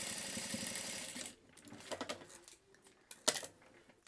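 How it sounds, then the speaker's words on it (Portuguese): A sewing machine stitching a seam close along the edge of a binding on a small fabric key wallet, running as a fast steady mechanical hum for just over a second, followed by quiet handling clicks. "E aqui eu passo uma costura rente a barra desse debrum que ficou aqui."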